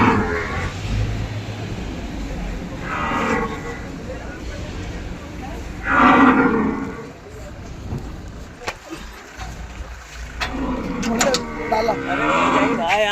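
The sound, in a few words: buffaloes lowing at slaughterhouse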